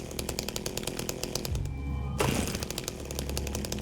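A chainsaw wielded by the player in the Silent Hill 2 remake on PS5 revs in rapid buzzing pulses, briefly dropping to a low idle mid-clip before roaring back up, loud and close.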